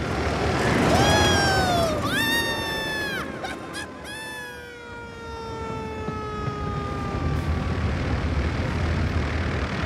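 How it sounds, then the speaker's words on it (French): A flying machine's propeller in a Thomas cartoon gives a loud continuous droning whir, with whistling tones sliding down in pitch throughout. "Arrête l'hélice, tu entends?"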